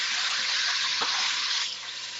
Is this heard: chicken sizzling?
yes